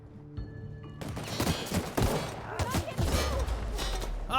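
Game explosion in The Outer Worlds, a burst of loud gunfire-like blasts and thuds that rolls on for several seconds with a voice talking over it.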